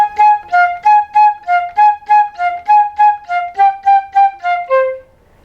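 A solo flute plays a bouncing arpeggio and triplet line from a melody, a clear run of about a dozen evenly spaced tongued notes ending on a held low note, close and alone.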